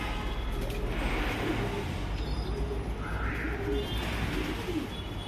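Pigeons coo softly amid steady background noise, with some chirps and faint distant traffic; the birds are breeding pairs kept for sale.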